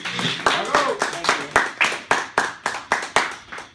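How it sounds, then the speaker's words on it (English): Audience clapping during a live beach broadcast, a small group giving a round of applause in a steady, even rhythm of distinct close claps with voices underneath. "Let's have a round of applause"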